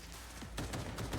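Burst of gunfire in Cyberpunk 2077, several quick shots fired in rapid succession over about a second, moderately loud, following a quiet stretch.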